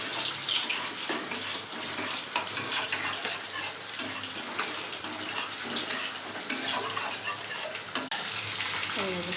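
Spice paste with salt and a little turmeric stir-fries in white oil for a pointed gourd and poppy seed dish, giving a steady wet sizzle with scraping and stirring throughout, close and moderately loud.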